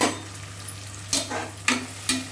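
Onions and a couple of green chillies being sautéed in a pan for veg biryani, with three sharp spoon scrapes over a steady low sizzle and a constant background hum.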